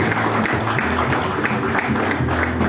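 A church congregation claps in praise during a Spanish-language worship service, dense and continuous applause over a bed of music and voices.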